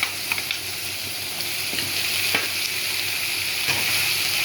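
Drumsticks sautéing in a pan for a mango, potato and pea curry, a loud continuous sizzle with occasional soft stirring clicks, no talk.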